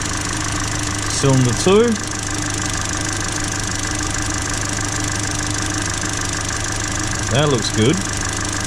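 A car engine idles steadily through a misfire test with an intermittent fault, a continuous low mechanical hum with faint knocking, while someone speaks briefly near the start and again near the end.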